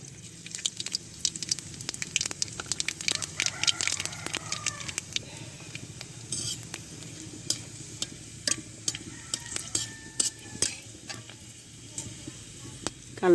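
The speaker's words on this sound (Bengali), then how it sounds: "জিরা শুকনো মরিচ ভাজা হয়ে গেছে" Black cumin and dried chilies crackle in oil with frequent sharp pops and ticks, a thin sizzle underneath, close and uneven in rhythm.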